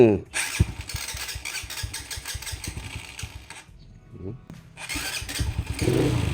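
A used FC 3000 motorcycle with a sidecar is started by hand, its engine firing in quick loud pulses, catching briefly, then sputtering back to a rough idle up close.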